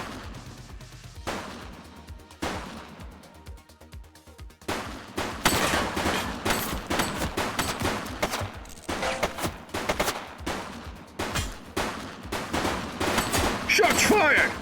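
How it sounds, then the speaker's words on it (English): Heavy gunfire in the video game The Precinct, rapid repeated bursts and single shots growing denser and louder over the span, with voices shouting in between. "Shots fired!"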